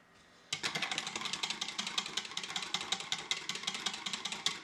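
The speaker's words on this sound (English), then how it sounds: "I'm going to just use my whisk first to whisk in all these colors" A whisk stirs colorants into liquid soap base, making quick, rhythmic clicking and scraping strokes close by that start abruptly and continue evenly.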